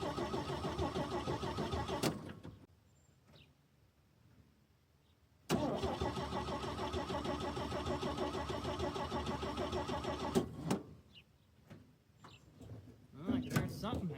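A 1965 Chevy C50 grain truck engine fires up and runs loudly for about two seconds, then dies. After a few quiet seconds it starts again and runs for about five seconds before cutting out, followed by scattered clunks.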